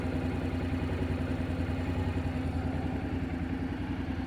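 A Honda NC 750 X DCT motorcycle idles at normal engine speed, about 1100 to 1150 rpm, with a steady, even low throb and a light clatter, close and alone.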